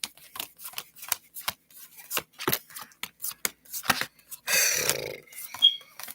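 Tarot cards are shuffled in a run of crisp, quick riffles and snaps up close, with short pauses between bursts and a brief rustling flurry near the end, no voice over them.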